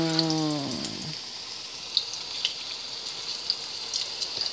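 Ripe sweet plantains fry in a hot pan with a steady, close sizzle and scattered crackling pops, preceded by a brief tonal squeak in the first second.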